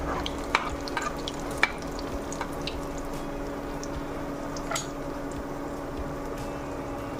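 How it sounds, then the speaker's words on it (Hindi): A spoon bastes hot oil over a veg burger patty frying in a pan, making a continuous close sizzle with scattered light taps and drips of oil as it is ladled over. "इस तरह से चम्मच से हम तेल को ऊपर की तरफ डालेंगे।"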